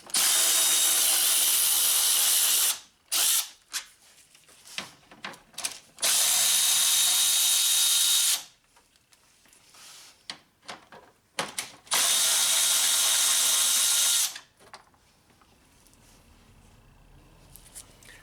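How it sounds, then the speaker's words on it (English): A 10mm ratchet loosens radiator shroud bolts on a 2003-2007 Honda Accord, giving three long bursts of rapid clicking close to the microphone, separated by quieter handling noises and short pauses. "in order to get these off, we just need a 10mm ratchet or wrench or something like that"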